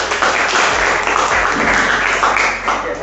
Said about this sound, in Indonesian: solusinya bagus, tepuk tangan